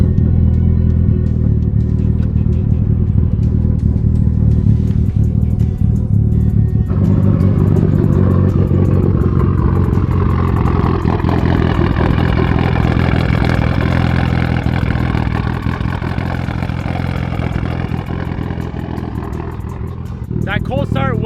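Car engine fires up from cold for the first time on a new More Automotive tune, a loud raspy start settling into a steady, close idle, with a person talking over it.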